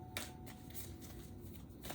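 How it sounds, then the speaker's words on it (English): Tarot cards being shuffled by hand, the deck sticking a little, giving a steady close riffling and rustling with a few sharper slaps, no voices. "the cards just don't want to shuffle properly"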